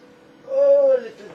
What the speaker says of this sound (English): basement cat, expressing his existential ennui